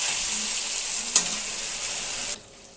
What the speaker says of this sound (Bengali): 5 মিনিট তাকে এইভাবেই ভাজবো। ফুল আঁচে দিয়ে 5 মিনিট ভেজে